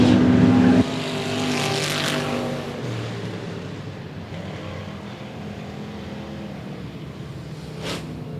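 Limited modified race cars at 105 Motor Speedway roar loudly, one engine bellowing close by at first before several cars drone past in a sustained, wavering pack, with a brief rising whine near the end.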